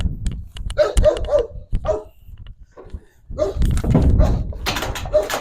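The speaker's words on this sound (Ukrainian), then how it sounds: "Бім, що ти гавкаєш" A dog barks in a series of sharp, close barks and yips at a grain storage shed, pausing briefly midway before a louder, denser burst of barking.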